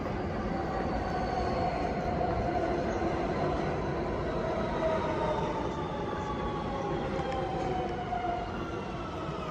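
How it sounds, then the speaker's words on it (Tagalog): An underground New York subway passenger train runs steadily, a continuous rushing rumble with long high-pitched wheel squeals drifting in and out, fairly faint and without voices. "Sakay ang tren na mamasahero doon sa ilalim ng lupa dito sa bayan ng Mindanao."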